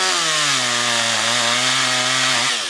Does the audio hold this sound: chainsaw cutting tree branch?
yes